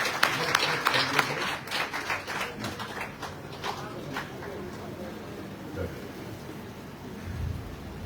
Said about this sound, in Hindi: जोरदार तालियां बजा देगा।